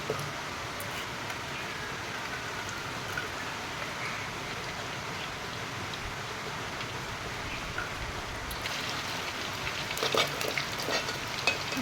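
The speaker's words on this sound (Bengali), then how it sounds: "এবার আমি আলুগুলো ভেজে নেব ভেজে তুলে নেব আলুগুলো ভেজে নেব কড়াই দিয়ে দিচ্ছি আলু" Potato pieces fry in hot oil in a wok with a steady, soft crackling sizzle that holds evenly throughout, growing slightly busier toward the end; no voices.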